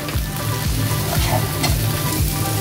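Spices and masala gravy for paneer tikka masala roasting in oil in a pan, with loud continuous sizzling and rhythmic scraping stirs about every half second, close up, with no talking.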